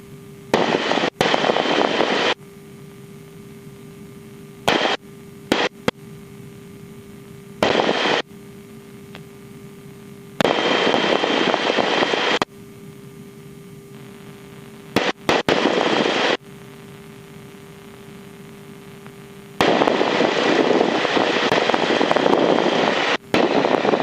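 Yak 52 aircraft landing, its radial engine and propeller roaring loud and steady, alternating with quieter cockpit stretches that look like abrupt edits, the loud engine returning through the end.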